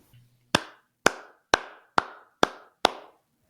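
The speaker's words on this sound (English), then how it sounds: "this is where we ask Todd to insert applause here" A podcast's inserted applause effect comes as six slow, evenly spaced single claps, each sharp and echoing briefly, alone with no talk.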